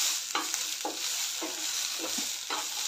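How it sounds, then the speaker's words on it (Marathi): Guar beans (cluster beans) dry-roasting in a pan toward light browning, giving a steady close sizzle with soft periodic scrapes of stirring, about five over a few seconds, and no talk. "थोडंसं गवारीवर ब्राऊन रंग येईल असं होईपर्यंत भाजून घ्यायचं आहे"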